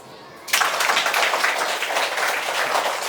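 A school class breaks into applause half a second in, a sudden dense burst of many hands clapping that stays loud and steady to the end.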